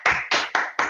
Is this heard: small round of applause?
yes